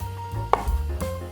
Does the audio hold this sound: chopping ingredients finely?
yes